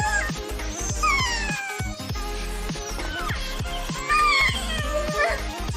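A dog whines in high, wavering cries broken up by short sharp barks and yips, loud and close, with a voice faintly mixed in.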